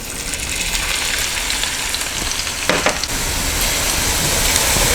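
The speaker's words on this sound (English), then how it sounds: "About 2-3 tablespoons of oil, so we can fry them real quick" Food sizzling and frying in a couple of tablespoons of hot oil in a wok for a Cuban-style family dinner, a steady dense crackle with a brief louder spatter midway, no talking.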